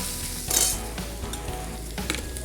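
Oil frying in a pan while a cabbage stir-fry is being started, with a soft steady sizzle and a few stirring scrapes and light metal clinks, quiet and close.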